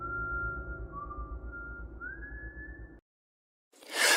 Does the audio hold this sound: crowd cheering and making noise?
no